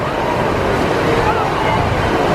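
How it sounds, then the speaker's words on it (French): Big ocean waves crash against a sea wall at Praia das Rocas in Portugal, a loud continuous roar of surf and wind noise that fills the whole stretch. "Vous voyez contre le mur là-bas, il y a 2 grandes vagues."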